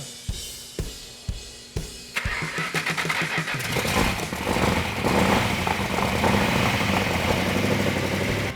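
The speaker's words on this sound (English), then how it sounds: "The 446 back engine fired right up" Dodge Challenger 446 engine cranks in several rhythmic starter turns, then fires and settles into a loud, steady, lumpy idle close by.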